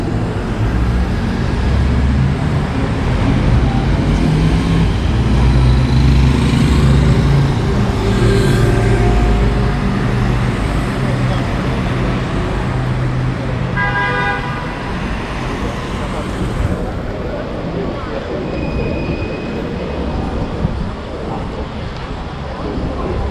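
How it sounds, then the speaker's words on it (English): Sunday-noon traffic crosses a side street by a busy pedestrian thoroughfare in Palermo, Sicily. Cars and engines rumble steadily, with a few short horn toots and general street bustle, and people talk nearby throughout. "Traffic can still come through on this cross street."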